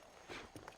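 Horse hooves clip-clop in the Red Dead Redemption video game, a few brief, faint thuds in the second half of a very short, quiet moment.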